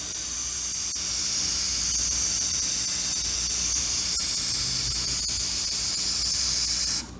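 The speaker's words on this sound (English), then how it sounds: "I'm just gonna pull back on the trigger. I'm gonna start spraying." An airbrush sprays paint in a speckle pattern: a steady, hissing spray runs continuously for several seconds at close range, then cuts off abruptly at the end.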